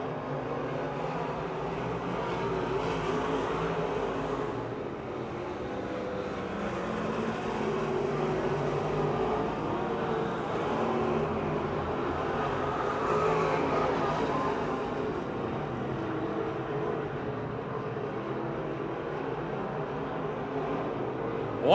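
Race cars circle the oval at Pennsylvania Motor Speedway near Pittsburgh, their engines blending into a distant, sustained roar that swells and fades slightly as the pack laps.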